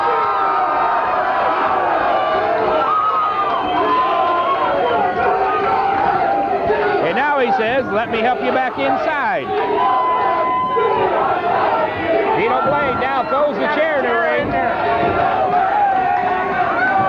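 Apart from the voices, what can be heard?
wrestling crowd cheering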